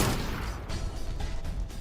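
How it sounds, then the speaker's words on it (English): Gunfire in Monster Hunter: World, a dense continuous barrage of shots and booms filling the whole moment, loud and close with no voices. "The gunshot jolted Boo Boo into action"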